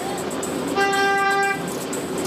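A car horn blares in a steady held honk in traffic, loud and close, rising over the low hum of road noise, with no one talking.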